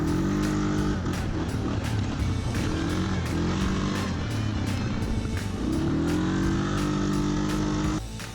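Suzuki KingQuad ATV engine accelerating from a dead stop on a trail, a loud, close motor whine that climbs in pitch through repeated gear changes, holding steady between shifts and easing off at the end.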